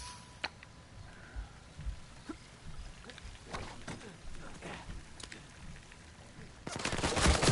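M14 rifle gunfire in an Uncharted video game, scattered sharp shots and impacts at moderate distance over a low background, building into a louder dense burst at the end.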